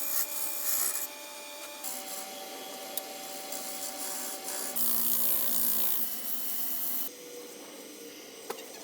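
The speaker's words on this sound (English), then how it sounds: "Just basically finished shining it up with the Sheila wax." A turned wooden pot spinning on a woodturning lathe is polished with Shellawax, a steady close rubbing hiss over the motor's hum that shifts in tone as pressure changes, with no talking.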